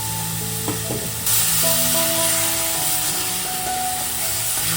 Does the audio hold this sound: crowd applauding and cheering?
no